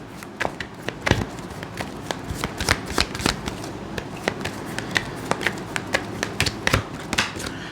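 Tarot cards shuffled and flipped during a reading, a dense run of crisp riffling slaps and snapping taps close up, steady throughout with a few louder card snaps standing out.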